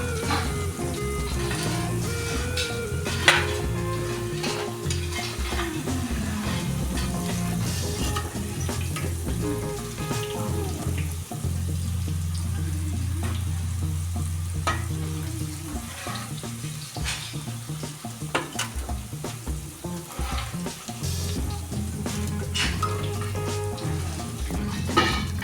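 Okra deep-frying in hot oil, a dense, steady, loud sizzle and crackle that runs unbroken throughout with a faint background hum and no voices.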